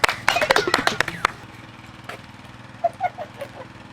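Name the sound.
audience clapping to welcome two villagers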